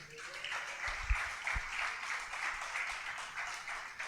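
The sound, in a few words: audience applause in church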